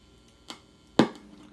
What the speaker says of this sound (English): A lot of crackling and crunching when it turns on.